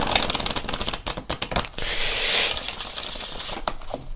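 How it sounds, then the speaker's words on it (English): A jumbo deck of playing cards being shuffled up close: quick rapid flicking riffles, then a longer ruffling bridge, then a few more snaps, loud and unaccompanied by talk. "Haven't shuffled it yet. Let's try it."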